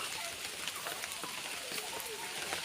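Steady rain falls at Lake Danao in Ormoc City, Leyte, a dense continuous patter of drops on surfaces with scattered sharper splashes, fairly close and even throughout, with faint voices in the background.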